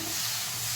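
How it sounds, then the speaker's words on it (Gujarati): Jaggery and water are stirred in a pan over a low gas flame, giving a steady, close, bubbling hiss with a faint scrape of the spoon. "ધીમા તાપે હલાયા કરવાનું."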